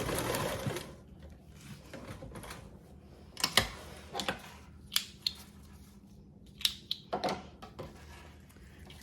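A home sewing machine bastes a zipper and lining together at a narrow seam, stitching in short bursts with pauses, fairly close and moderately loud, with faint handling clicks between runs.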